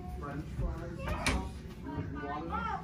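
Closet double doors in a resort hotel room open with a soft knock and rattle, faint and brief beneath a person talking.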